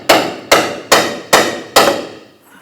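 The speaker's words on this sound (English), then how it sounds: "strike our knuckle here to loosen or separate the ball joint from the knuckle" Five loud, metallic hammer blows ring out against the steering knuckle of a 2006-2010 Hummer H3 to separate the ball joint, evenly spaced about half a second apart, each with a short ringing decay.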